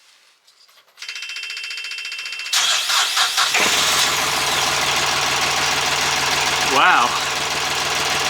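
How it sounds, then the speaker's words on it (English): A car engine cranks and catches, then settles into a steady idle after its alternator belt has been re-tensioned; the start is loud and close, and a voice briefly speaks over the running engine. "I'm going to start the engine now."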